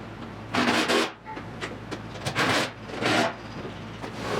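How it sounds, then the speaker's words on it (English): Fasteners being fitted as a rear fender is mounted on a 1974 Triumph TR6 during restoration, with several loud bursts of scraping and rubbing broken by short pauses. "now I'm gonna mount the fender with all the fasteners"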